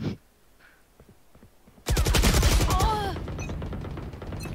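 Video game gunfire erupts suddenly as a loud, dense burst of rapid shots after a quiet stretch, then continues at a lower, sustained level with game effects mixed in.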